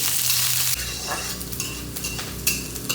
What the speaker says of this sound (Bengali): একে একে সবজি দিতে থাকবো ফুলকপি দিয়ে দেবো কারণ ওটা সিদ্ধ হতে একটু সময় লাগে ফুলকপিও দিয়ে দিলাম